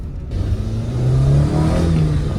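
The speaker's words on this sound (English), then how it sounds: "that little short ram intake makes a lot of noise" A TRD Toyota Celica engine with a short ram intake revs up close and loud with a throaty intake roar, climbing in pitch and holding steady, no voices.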